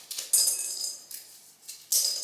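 Dried runner beans shelled into a glass bowl give bright, scattered clinks and rattles in a few short bursts, fairly quiet and close, with no talking.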